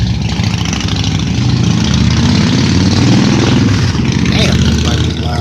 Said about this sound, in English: oh, that motorcycle scared him away.